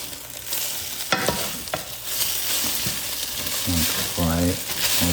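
Tomato and egg stir-fry in a hot pan with a steady sizzle, as a spatula scrapes and flips the food, making a few louder clattering strokes near the end.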